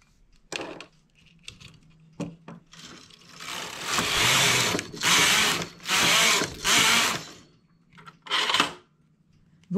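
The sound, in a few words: knitting machine carriage knitting rows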